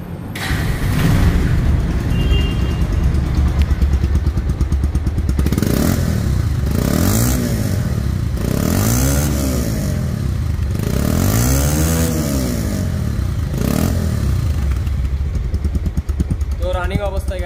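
A Bajaj Pulsar double-disc ABS motorcycle, 2023–24 model in showroom condition, runs loud and close, its engine revved up and down in repeated rising and falling sweeps over a steady idle thrum.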